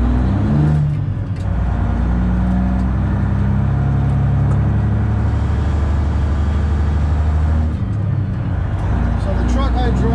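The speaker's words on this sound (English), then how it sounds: "So the truck I drive is a 2000 Freightliner Classic." A straight-piped 2000 Freightliner Classic XL truck with a 13-speed transmission idles with a loud, steady, deep rumble that runs close and continuous throughout, dipping briefly twice.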